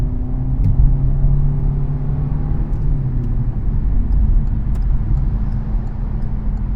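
A 2022 Hyundai Accent accelerating onto a highway, its engine a loud, steady low drone with rising tone from inside the cabin, road rumble and faint clicks, no talking.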